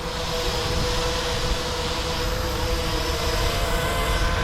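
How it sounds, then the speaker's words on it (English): A VTOL gliding remote control airplane drone runs its engine with a steady, close, even whine and mechanical hum and no voices, while its battery is running low. "See, the engine still working, but losing battery."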